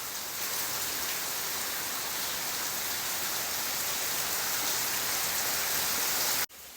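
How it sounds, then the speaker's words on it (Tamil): Heavy rain pours steadily as a dense, continuous hiss, loud and close throughout with no voices, cutting off abruptly at the very end. "எப்படி மழை பெஞ்சிட்டு இருக்குன்னு பாருங்களேன்"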